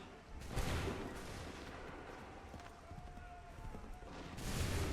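A cannon volley in Assassin's Creed 3, a dense, loud, sustained rumble of booming fire that swells at the start and again near the end, with battle noise filling the space between.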